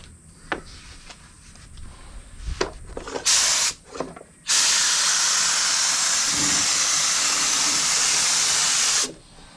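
An aerosol spray paint can hisses, first in short bursts with clicks and handling noise, then in one long steady spray lasting several seconds, close and loud.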